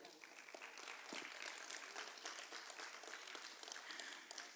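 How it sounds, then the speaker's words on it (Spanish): A church congregation applauds in a dense, continuous wash of clapping, fairly distant and soft, with a faint murmur of voices underneath. "¿Cuántos le dan un aplauso al Señor?"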